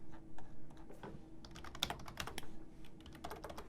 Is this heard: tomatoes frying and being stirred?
no